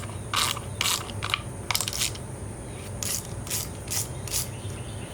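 A ratchet works 8mm bolts on the belly pan of a Kawasaki Z900 motorcycle, giving several short bursts of rapid clicking in uneven groups, close and fairly crisp over a quiet background.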